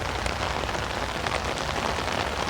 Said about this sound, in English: we're getting plenty of rain